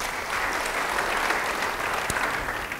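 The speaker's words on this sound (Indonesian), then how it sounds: "Yang percaya beri tepuk tangan bagi dia." A church congregation applauds during a sermon, with dense, even clapping sustained at moderate loudness throughout and no talk over it.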